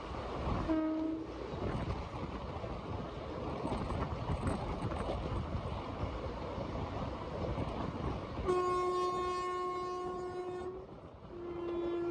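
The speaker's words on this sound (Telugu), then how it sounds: "కాచిగూడ చెంగల్పట్టు ఎక్స్ప్రెస్ మనని క్రాస్ చేసుకుంటూ వెళ్తుంది." Heard from aboard the Tungabhadra Express, the Kacheguda–Chengalpattu Express rumbles past at length while a loud horn sounds in two blasts, one brief near the start and a longer one later.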